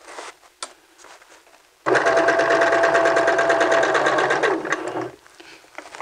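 A sewing machine stitches vest lining in one loud, steady burst of about three seconds, its rapid needle chatter starting abruptly and slowing to a stop, with quieter handling sounds around it.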